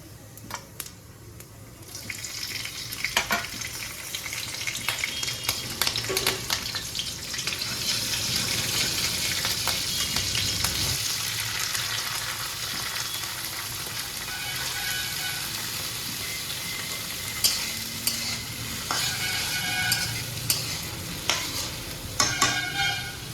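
Five-spice seeds and chopped green chilli tempering in hot oil, a steady crackling sizzle running throughout at close range, with occasional sharper pops and clinks of a utensil against the pan.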